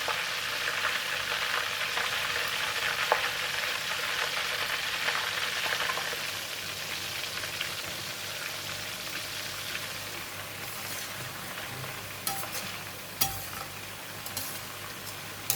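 Squid sizzling steadily as it deep-fries in hot oil, a dense continuous crackle with a few sharper pops and bubbles near the end, close and moderately loud with no talking.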